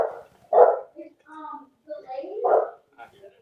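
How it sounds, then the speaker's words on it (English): Dog barking in the background of a live stream call, several short barks spaced a second or two apart, moderately faint and mixed with bits of talk. "we can hear a dog barking in the background"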